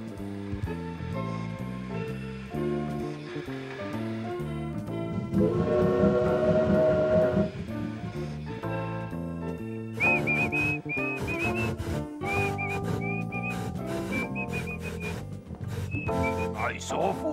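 A locomotive whistle sends a message as a series of short, high, repeated toots, sounding over busy orchestral music after a louder stretch.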